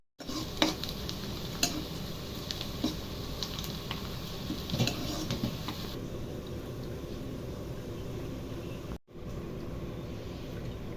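Coriander seeds and spices fry in a pan for a chicken fry, giving a continuous crackling sizzle with sharp pops and occasional scrapes of stirring. The sound cuts briefly near the end and then the sizzle resumes.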